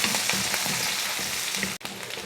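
Sliced onion and fennel seeds sizzling in hot oil in a kadai, a steady bright frying hiss with faint stirring scrapes and a brief cut-out near the end.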